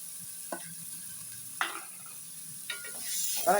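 Onion and carrot sautéing in a pan for idli upma: a quiet, low sizzle with three or four distinct spatula scrapes spaced apart, growing slightly livelier at the end.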